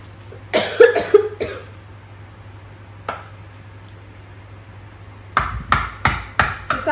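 A person coughs in a harsh cluster, pauses, gives one more cough, then breaks into a rapid series of close coughs.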